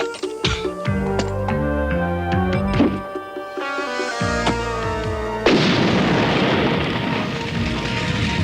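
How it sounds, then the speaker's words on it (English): A deep, heavy boom from a hand grenade explosion erupts partway through in an animated cartoon, followed by a loud rumbling roar of a starting avalanche, layered over constant music and effects. "An explosion!"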